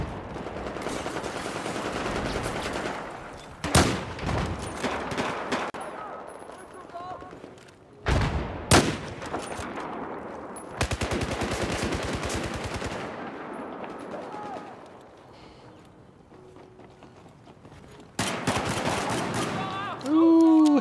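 Automatic and single gunfire from the Battlefield 4 video game, loud bursts of rapid shots and sharp cracks in several clusters separated by quieter stretches, with a voice speaking in between.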